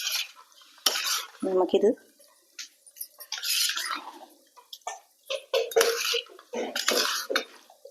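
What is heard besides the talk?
stirring Thiruvathira puzhukku with curry leaves and coconut oil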